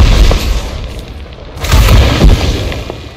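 Heavy booming blasts of ship weapons fire in the space game Elite Dangerous Odyssey, loud, deep impacts rolling one into another across the span.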